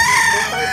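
A rooster crows loudly and close at a cockfight venue, a single brief sustained call.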